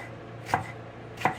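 A knife chopping pizza toppings on a cutting board while making pizza from scratch, two distinct sharp chops spaced under a second apart, clear and close over a low background hum.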